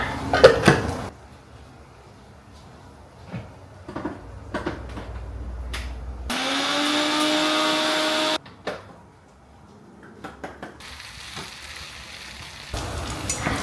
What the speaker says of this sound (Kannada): ಬೇಗ ಮಿಕ್ಸಿನಲ್ಲಿ ಹಾಕ್ಕೊಂಡು ಪೌಡರ್ ಮಾಡಿ ಇಟ್ಕೊಂಡು ಬಿಡೋಣ